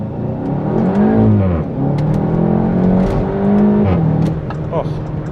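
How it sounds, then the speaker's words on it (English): A 2016 VW Golf 7 GTI Clubsport exhaust booms loudly while accelerating through an underpass, its engine note climbing and shifting through gears in a steady, echoing drone, heard from inside the car. "just so we can hear the exhaust as we drive past"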